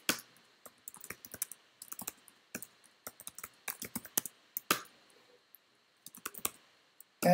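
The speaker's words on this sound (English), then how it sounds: "I'm gonna say type IKEA" Fingers type on a computer keyboard during an R data-analysis session on IKEA furniture, a close run of quick irregular key clicks in bursts with short pauses, ending in a louder tap.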